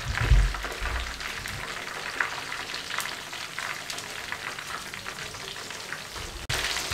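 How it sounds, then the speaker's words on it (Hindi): KFC-style chicken pieces deep-frying in hot oil, a steady close sizzle and crackle with light bubbling throughout, a brief louder bump near the start and a jolt near the end. "इसी तरीके से जिस तरीके से मैंने ये फ्राई किए हैं, इसी तरीके से मैं ये वाले भी फ्राई कर लूँ"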